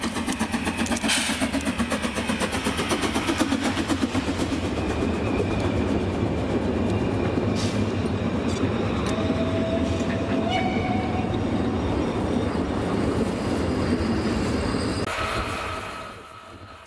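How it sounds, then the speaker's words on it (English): The hourly service train hauled by 280 K45 locomotive number 4802 on a German narrow-gauge line rumbles past steadily and loudly with clattering wheels and a brief horn note, fading slightly at the end. "we passed another of the hourly service trains headed by the 280 K45 number 4802"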